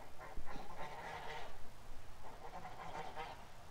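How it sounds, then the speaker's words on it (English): Agitated geese honk and cackle in repeated bursts, fairly close, forming a busy, noisy chorus with no talking. "The geese are getting worked up here, guys."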